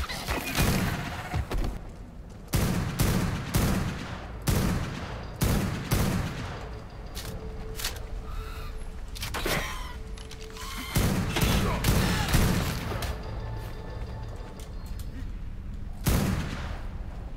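Sniper rifle firing in Fallout 76 during a lava cave run, a series of sharp, loud, booming shots spaced a second or two apart with gaps of quieter game ambience, while people talk in between.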